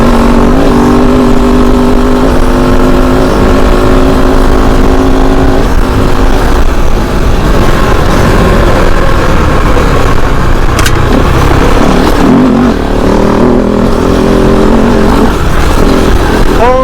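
A Kove 450 Rally motorcycle ridden fast over dirt and loose sand, its engine droning loud and steady throughout with shifting revs and rough wind and terrain noise close by.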